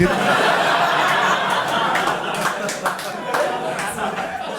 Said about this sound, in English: Sorry for the people who clapped at the beginning of that joke